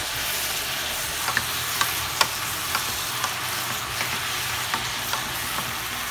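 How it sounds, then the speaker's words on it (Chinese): Japanese udon noodles stir-fried with barbecue sauce in a hot pan give a steady loud sizzle, with scattered soft clicks from the utensil tossing and mixing them. "快速的翻炒搅匀。"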